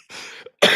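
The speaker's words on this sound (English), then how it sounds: "Don't make me cough, man." A man coughs twice, a sharp raspy burst with a brief throat-clearing catch, then a second louder cough after a short pause, close and alone.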